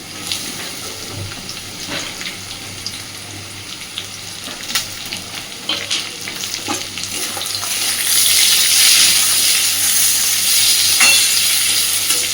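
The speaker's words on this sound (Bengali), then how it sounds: "আর দিচ্ছি পেঁয়াজ কুচি আর চেরা কাঁচা লঙ্কা" Chopped onion, crushed garlic and slit green chilies fry alongside potatoes in a pan, a soft ongoing sizzle with scattered scraping stirs that swells into a louder hiss toward the end.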